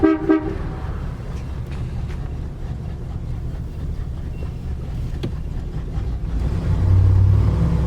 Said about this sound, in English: got an awesome horn